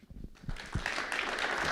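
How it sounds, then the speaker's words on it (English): An audience at a national commission summit on cutting-edge technology applauds the panel, with faint clapping that starts sparse and swells into a steady, distant wash of applause. "I want everyone to give them a big applause."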